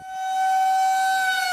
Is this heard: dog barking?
no